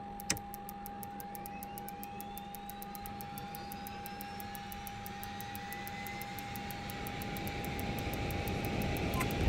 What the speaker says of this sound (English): take a listen to the actual engine sounds themselves